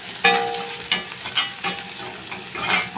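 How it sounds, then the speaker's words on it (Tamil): Onion and curry leaves sauté in oil in a kadai, a continuous crackling sizzle punctuated by several close scrapes and taps of a stirring spoon against the pan. "நம்ம வதக்கலாம்."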